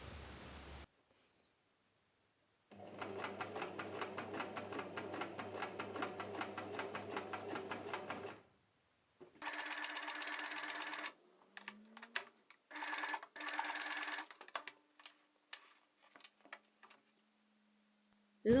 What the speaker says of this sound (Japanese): 布の端のほつれが気になったのでジグザグ縫いをしました。